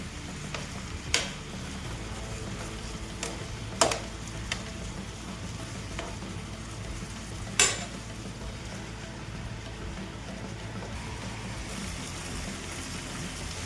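Chicken pieces fry in a pan on full heat for butter chicken, releasing water that cooks off. A steady close sizzle runs throughout, broken by a few sharp stirring scrapes and clicks.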